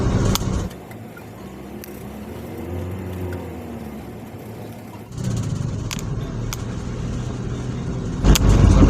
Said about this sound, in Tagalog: Mabilis pa ang takbo ng mga sasakyan.